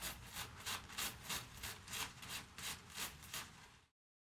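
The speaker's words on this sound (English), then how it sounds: "So I'm just going to go ahead and start scrubbing this down a little bit." Surface rust being scrubbed off a metal part from an Ibanez bass guitar: about eight quiet, even back-and-forth rubbing strokes in a steady rhythm, close up, then the scrubbing stops.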